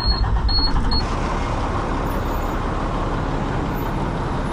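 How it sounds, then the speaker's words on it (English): A work truck idles steadily at close range on a job site, a continuous low diesel rumble with broadband engine noise and a brief faint high hiss at the start. "This truck fired up for Big Ray."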